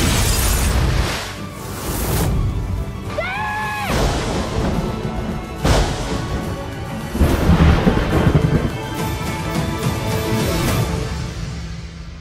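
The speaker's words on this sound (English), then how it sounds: "There'll be a storm soon." A thunderstorm in a movie trailer, with loud rumbling thunder and crashing booms layered over dramatic sound, a brief rising tone and shifting intensity.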